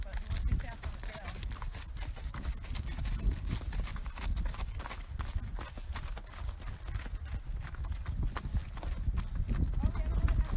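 A thoroughbred horse walks a wooded trail during an organized trail ride in Massachusetts, its hooves clip-clopping in an irregular patter close by under outdoor ambience and light background talk.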